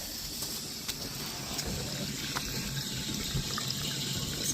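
Water runs from a hose into an RV's fresh water tank, a steady, close rushing and splashing flow with no pauses.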